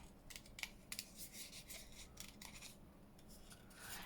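Scissors snip out mushroom shapes from cardboard packaging for a junk journal, with a quick run of crisp, close cuts and rasping paper rubs at a low, steady level with no talk.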